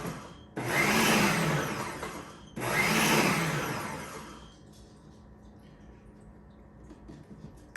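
Ninja Professional 1000 watt food processor chopping potato, two loud whirring pulses of about two seconds each with a brief pause between, then the motor winding down to quiet.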